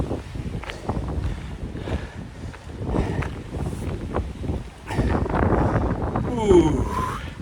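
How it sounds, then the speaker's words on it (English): Gusty wind buffets the microphone on a wet, windy outdoor walk, with steady low rumbling and rustle throughout, growing louder in the second half; a voice speaks briefly over it. "It's windy as well."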